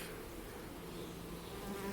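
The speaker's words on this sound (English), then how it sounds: "there's so many bees." Dense, steady buzzing of many honey bees swarming close by at a hive, a continuous droning hum with no other sounds.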